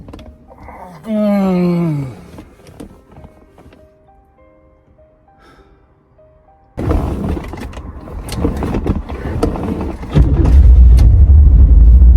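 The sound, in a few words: Chevrolet Silverado truck engine starting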